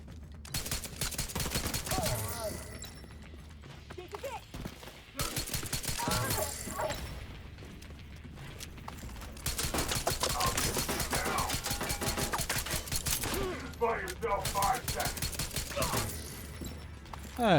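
Gunfire in a shooter video game with a Lexington build, where pistol shots and rapid bursts crackle almost continuously for the whole stretch, loud and close.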